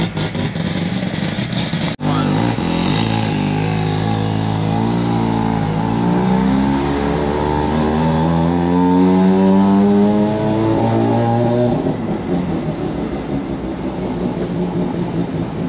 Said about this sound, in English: What are the chances we're stuck behind an RX2 from New South Wales